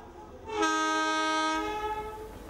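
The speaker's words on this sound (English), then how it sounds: "Poku took the train from Gua Musang in the state of Kelantan to Jerantut in the state of Pahang." A train running from Gua Musang in Kelantan to Jerantut in Pahang, Malaysia sounds one loud, sustained horn blast of about a second that fades into rumbling track noise.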